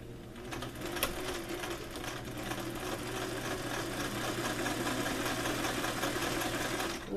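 A sewing machine stitches a placket zipper in one continuous run of fast, even mechanical chattering and whirring, fairly close and loud, with no voices over it.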